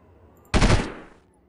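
Enemy gunfire in the Delta Force 2 video game, a short loud rattle of automatic shots lasting under half a second after near silence, then quickly fading.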